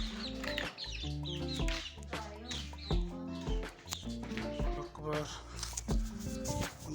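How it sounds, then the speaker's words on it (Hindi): Chickens cluck and murmur nearby on a small farm plot, a busy overlapping chatter of hens that continues under a voice talking throughout. "उधर जो मुर्गियाँ ना वो इनको मारती थी, अब ये इधर आ गए।"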